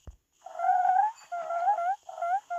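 A cat gives a few close, drawn-out vocal cries in quick succession, each a wavering tonal moan separated by short gaps, loud and alone.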